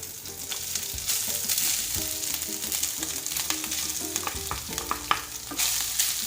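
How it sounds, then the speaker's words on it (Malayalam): Grated coconut frying in ghee for a Kerala jackfruit ada gives a busy crackling sizzle, with frequent scraping clicks from stirring in the pan and no talking. "അപ്പോൾ നമുക്കിതിലേക്ക് ഈ നാളികേരം ഇട്ടിട്ടൊന്ന് ഫ്രൈ ചെയ്തെടുക്കാം."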